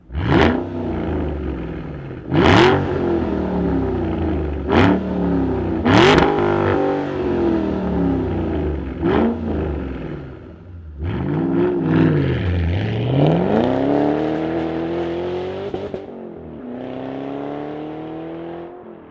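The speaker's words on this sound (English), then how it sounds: "We got supercharged V8 power. Why don't we fire it up and hear what it sounds like?" A Shelby GT500KR's powerful supercharged V8 engine cranks and fires up, then revs hard in several sharp bursts before settling into a loud, rumbling idle with more throttle blips.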